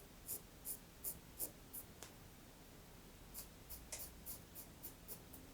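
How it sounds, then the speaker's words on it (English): Tailor's fabric pencil marking navy suit cloth in soft, close scratchy strokes, a steady run of faint rhythmic marks with a brief pause midway and no talk. "I've got my little fabric pencil here. It's not going to make any major marks"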